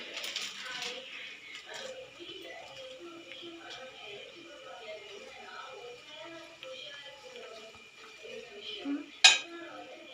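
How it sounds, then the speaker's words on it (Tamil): Veg noodles with cheese being stirred in a pan, with steady scraping and clinking of a utensil against the pan and a sharper metallic clink near the end. "நல்லா கிண்டிக்கலாம்."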